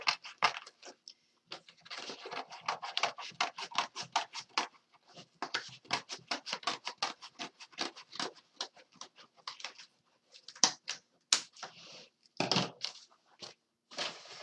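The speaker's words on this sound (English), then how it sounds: "This one you would cut on an angle. Just cut that on an angle." Paper snipping as a magazine cover is cut on an angle, heard as a long series of quick, crisp, crunchy cuts in uneven rhythm with brief pauses, close and fairly quiet.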